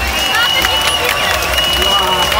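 A large audience at the Tokyo Game Show claps steadily as a loud, continuous wash of applause, with crowd murmur mixed in.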